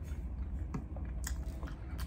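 A single crisp bite into crunchy New York pizza crust, a short crackling crunch followed by faint chewing, close up and alone.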